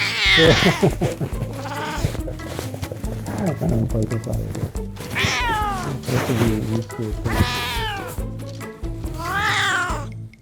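A cat meows repeatedly, loud and close, with drawn-out plaintive cries coming every second or two.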